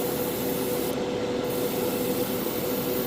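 An airbrush sprays paint onto inner frame parts of a MG Gundam HeavyArms Custom model kit, giving a steady, close, unbroken hiss that barely changes throughout.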